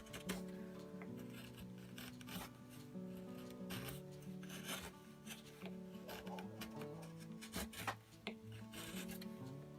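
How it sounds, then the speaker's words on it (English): A small chisel carves soft red cedar for a traditional knife handle, giving quiet, repeated scraping and rasping strokes in an uneven rhythm, close and alone without talk. "the red cedar is nice and soft that you can actually carve it out pretty easily"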